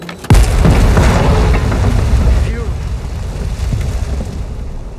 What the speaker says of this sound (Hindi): तो एडन का कहना ठीक है कि धमाके से ज़्यादा कुछ फर्क पड़ा नहीं।